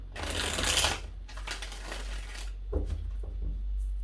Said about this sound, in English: 3 shuffles here.